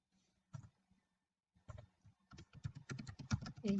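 Typing on a computer keyboard while entering text for a wine label design in Photoshop: a few isolated key presses, then a quickening run of close, crisp clicks and taps that grows busier toward the end.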